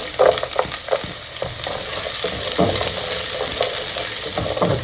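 Ginger sautéing in hot oil gives a steady, close sizzle with a few quick knocks and scrapes of a spoon stirring the pan early on. No one talks.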